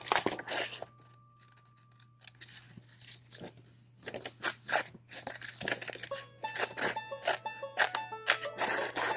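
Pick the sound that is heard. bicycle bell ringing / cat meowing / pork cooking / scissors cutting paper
scissors cutting paper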